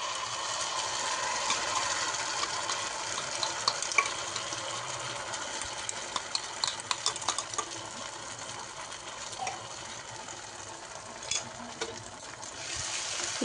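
Spice paste fries in oil in a pan with a steady, even sizzle, while a spoon stirring it gives soft scraping taps that recur irregularly across the whole stretch, close by and with no voices.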